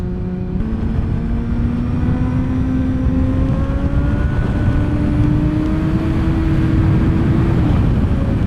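Honda CBR 600 motorcycle engine accelerating hard while overtaking, its rising whine climbing steadily through the revs under heavy wind roar, loud and close, then easing off near the end.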